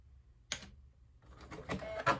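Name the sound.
sewing machine running a straight stitch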